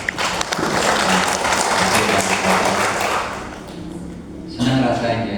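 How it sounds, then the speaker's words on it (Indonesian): An audience at an Indonesian education ministry event breaks into loud, dense applause that eases a little before it swells again near the end. A voice can be heard faintly under the clapping. "Tepuk tangan dulu buat"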